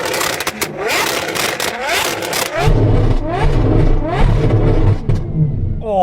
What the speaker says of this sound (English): Oh, the bangs on that might take it over Tommy's score.